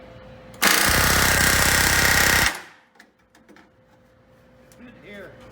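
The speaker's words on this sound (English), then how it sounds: "He's using a 3X rivet gun, which is a small one." A small 3X pneumatic rivet gun hammers a rivet into a P-40 aircraft panel in one loud, close, rapid burst of about two seconds, followed by quiet shop sounds and soft talk.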